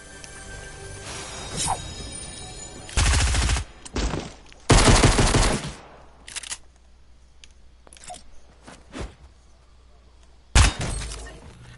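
Fortnite gunfire comes in several loud, sharp bursts and single shots with crackling impacts, spaced irregularly between quieter stretches of game sound.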